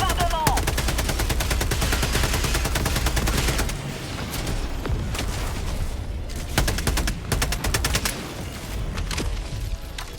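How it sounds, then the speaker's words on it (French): Called-in orbital bombardment in the video game Helldivers 2: loud, dense barrage of overlapping blasts and rapid gunfire-like cracks, continuous for several seconds then easing into scattered bursts. "Demande un bombardement."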